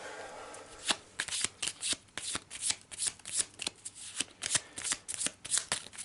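A deck of loot cards for a tabletop board game is riffle-shuffled close up, a rapid run of crisp flicking bursts repeating steadily over several seconds, with no talk.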